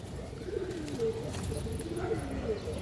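A pair of green-necked Bagha pigeons coo in a loft, giving several soft, rolling calls in a row at fairly low volume.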